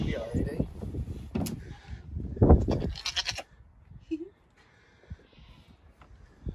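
A newly arrived goat on a farm gives a couple of bleats amid the chatter of several people talking nearby, followed by a quieter stretch with faint background sounds.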